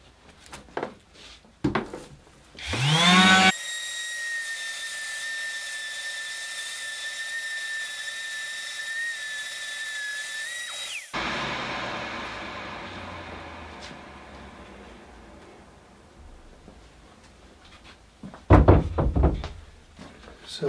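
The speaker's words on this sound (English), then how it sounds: "next up is the Festool with the interface pad, and again, nice new piece of P120 abrasive" A Festool sander fitted with an interface pad and a fresh P120 abrasive runs for about eight seconds as a loud, steady whine with a sharp start and abrupt stop, preceded and followed by quieter handling knocks and rustle.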